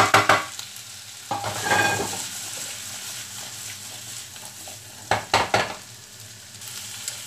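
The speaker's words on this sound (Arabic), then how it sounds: "ولا غادي غير نحركهم هكا واحد شويه، كتنسم بهم الزيت شويه" Vegetables stirred lightly in a pan of oil, with a soft sizzle, a few scraping spoon strokes and brief louder bursts of stirring separated by quieter frying.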